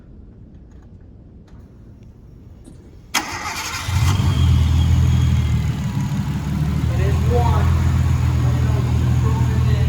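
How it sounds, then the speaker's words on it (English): Quiet at first, then a click and a 1993 Nissan Skyline GTS-t engine cranks and catches, settling into a loud, steady idle with slight revving; a voice speaks briefly. "so we're not cold revving it"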